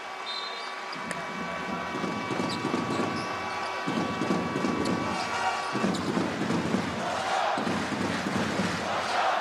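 Basketball arena crowd in Amman during a Jordan game, a loud rolling roar with surging swells and cheers filling the hall, steady and boisterous across the whole stretch with no clear voices standing out.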